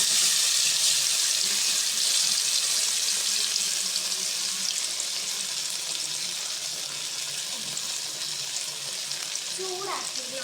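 Potato pieces fry in hot palm oil, giving a steady, close, loud sizzle that holds unbroken from start to finish with no talking.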